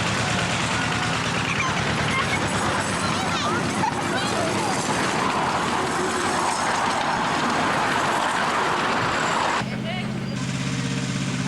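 A small 10 horsepower rail locomotive chugs and rattles loudly along the track, then shifts to a steadier, quieter hum toward the end.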